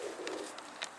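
An escaped pigeon, just landed on a rooftop, gives a soft, low coo that runs steadily through a brief moment, faint and somewhat distant, with no voices over it.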